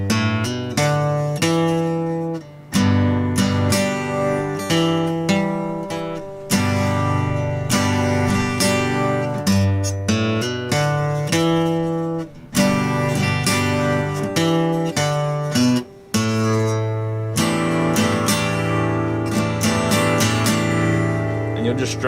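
An acoustic guitar plays the intro of a song: close, loud strummed chords and picked notes in a steady rhythm, alone without any talking.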